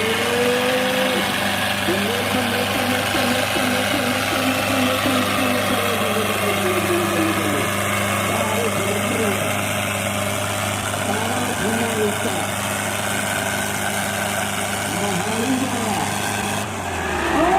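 A Sonalika tractor engine runs steadily at idle at a tractor tug-of-war event in Chandpura, Haryana, a constant low rumble with a warbling tone throughout, while someone talks loudly over a PA.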